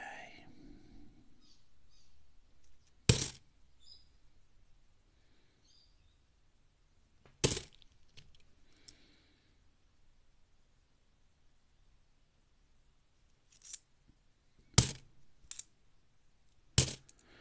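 Coins clinking and dropping during a mixed coin search, a handful of sharp, isolated metallic clinks spread apart, with a quick double clink near the end, over a quiet background.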